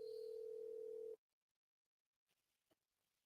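A telephone ringback tone heard while calling a seller back: one steady, loud tone lasting about a second, then it cuts off into near silence with a few faint clicks and rustles.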